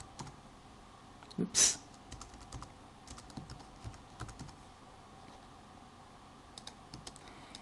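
Keys are pressed sparsely on a computer keyboard while a class name is entered, with soft scattered clicks and a brief spoken exclamation near the start.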